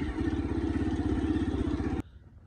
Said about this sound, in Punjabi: ਬੜੀ ਮੁਸ਼ਕਲ ਚੱਲਦੀ ਮੋਟਰਸਾਈਕਲ ਆ ਵੇਖੋ ਨਾ ਰੇਤ ਬਹੁਤ ਜ਼ਿਆਦਾ